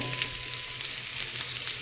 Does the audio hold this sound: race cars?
no